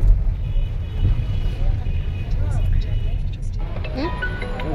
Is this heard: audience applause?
no